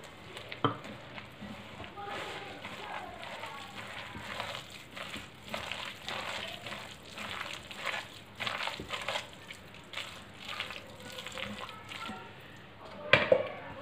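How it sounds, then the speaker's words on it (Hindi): Vegetable pakora batter of gram flour and ajwain being mixed by hand, giving a steady run of wet, squelching pushes and slaps, close and fairly quiet, with no talking. "अब इसको हम हाथ से मिक्स करेंगे"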